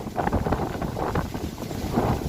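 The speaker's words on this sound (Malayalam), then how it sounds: "ഭയങ്കര കാറ്റ്" Strong wind buffets the microphone in continuous rumbling gusts, loud and close, with no voices.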